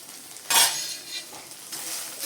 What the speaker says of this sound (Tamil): ஒரு கிண்ட கிண்டி விட்டுட்டு